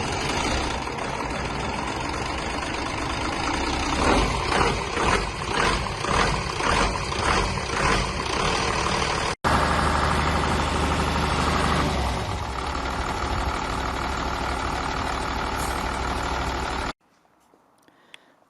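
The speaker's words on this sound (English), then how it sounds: "a video of this engine exactly running in the wagon it came out of" A DAF diesel engine in a horse box wagon runs steadily with a loud, deep, rumbling drone and a faint rhythmic knock, then cuts off abruptly, leaving near silence with a few small clicks.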